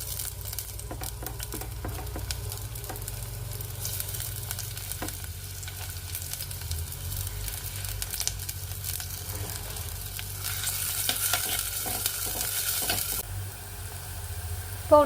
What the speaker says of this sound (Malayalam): വല്യുള്ളി ഇട്ട് കൊടുക്കാം.